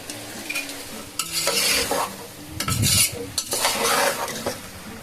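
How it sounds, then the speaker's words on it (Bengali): Meat braising in a pan for a Bengali ghugni dish, stirred with a spatula that scrapes and clinks against the metal while a steady sizzle runs underneath, close and continuous with bursts of louder frying. "মাংস কষাই ঠিক সেইভাবে কষিয়ে নেব"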